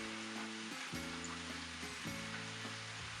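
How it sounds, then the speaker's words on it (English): Filled biftekia sliders sear in a hot pan with a steady, close sizzle, while sustained tonal notes, likely background music, run underneath and no one speaks. "Just trying to get it seared on"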